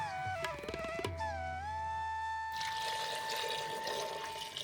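Water poured into a cooking pot holding potatoes and whole black gram, a steady splashing pour that brightens and fills out partway through, with no talking.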